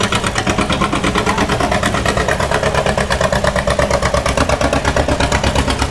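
An old John Deere two-cylinder tractor with a straight pipe and gutted muffler idles loud and close at a cotton gin festival, its exhaust popping in a fast, steady, even rhythm throughout.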